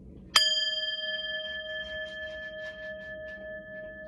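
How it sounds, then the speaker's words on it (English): A singing bowl is struck once, giving a bright onset and a sustained, clear ringing tone that slowly fades, with faint quiet talk underneath. "I like my little sound bowl"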